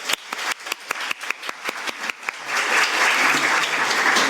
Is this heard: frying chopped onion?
no